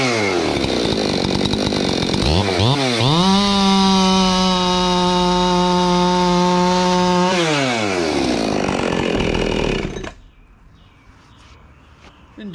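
A Husqvarna-powered chainsaw fitted with an X-Cut chain revs up and bites into wood, holding a loud steady cutting whine for several seconds before winding down and falling to near silence.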